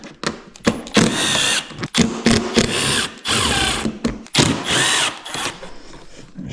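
Power drill unscrewing the side panel screws on a Ski-doo snowmobile, repeated close bursts of whirring spin with ratcheting clicks and short pauses between screws, no talking.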